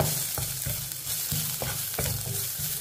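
Garlic and ginger sizzle steadily in a hot pan while a utensil stirs and scrapes in regular strokes, close and fairly loud, no voices.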